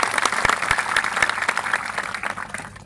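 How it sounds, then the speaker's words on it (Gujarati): Audience applause at a public gathering, a dense sustained wash of many hands clapping for a few seconds, fairly loud and steady without any voices. "બધા માટે એકવાર જોરદાર આપણે તાળીઓ પાડી લઈશું"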